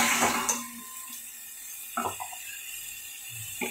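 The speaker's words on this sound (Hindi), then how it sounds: "ये मैंने पानी डाल दिया है" Water poured into a pan of frying masala chicken, a brief splashy pour and sizzle at the start that fades quickly, followed by a few light clinks of a utensil against the pan.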